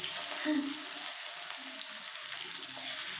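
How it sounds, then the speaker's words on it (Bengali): Continuous quiet sizzle of small fish frying in oil, a soft even hiss with faint bubbling and occasional low clinks. "এগুলো ভেজে তুলে নিই তারপর মোরলা মাছটা রান্না করি"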